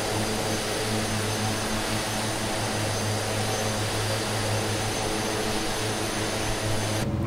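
A DHC-6 Twin Otter twin turboprop in a flight simulator, a steady loud engine drone with humming tonal lines and broadband roar throughout, no talk over it.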